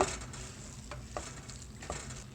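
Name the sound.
stirring red lentil curry in a pot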